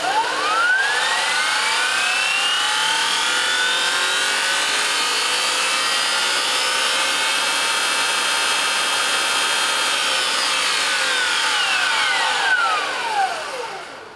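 Electric motor on a custom-built controller held at constant quarter throttle, a loud sustained whine with rising and falling tonal sweeps, running alone and fading at the end.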